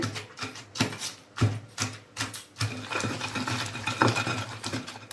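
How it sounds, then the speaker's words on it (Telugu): Green chillies and ridge gourd pieces are pounded for a chutney, with repeated rhythmic thuds and grinding knocks at close range. Irregular beats at first give way to denser, continuous scraping. "ఈ పచ్చిమిర్చి బీరకాయ ముక్కలు మెత్తగా అయిందాక ఇలా దంచుకోవాలండి"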